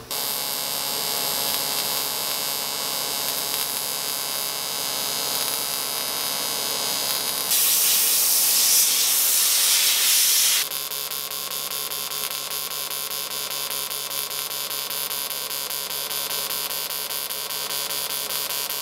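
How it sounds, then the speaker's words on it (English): Jasic welder running AC TIG on a bead, a steady loud electrical hum and buzz with a short harsher hissing stretch in the middle. "run a bead with normal AC TIG"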